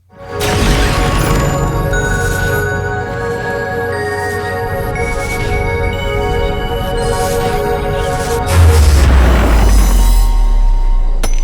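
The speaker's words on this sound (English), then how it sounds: "you need to shoot this crystal with your upgraded shrink gun" A video-game upgraded shrink gun fires at a crystal, followed by a meteor falling, heard as a sustained loud rumbling blast with layered tonal hum and a heavier deep impact surge near the end, no talking.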